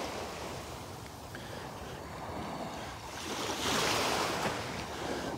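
Ocean surf washes steadily onto Delnor-Wiggins beach in Florida, a continuous broad hiss of breaking waves with wind, swelling louder for a moment near the middle before settling back, with no voices.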